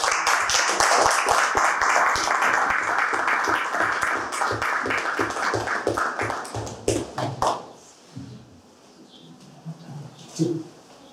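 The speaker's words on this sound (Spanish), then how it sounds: "Un aplauso." An audience at a talk on bees applauds with brisk, dense clapping for about seven seconds before it thins into scattered claps and quiet room noise.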